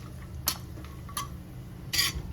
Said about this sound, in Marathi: थोडेसे भाजून द्यायचे चांगले काजू